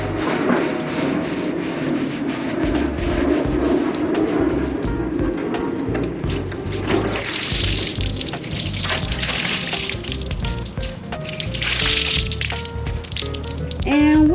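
Water rinsing over a freshly sanded car hood from a Charger RT being refinished with a Hellcat Redeye hood, a steady broad wash of spray and splashing lasting throughout, close and fairly loud.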